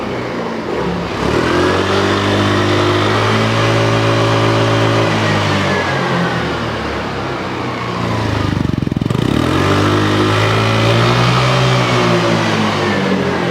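A Hero Xoom 160 scooter engine revs up into a loud, sustained whine, briefly drops off, then climbs again to a steady high drone, close by.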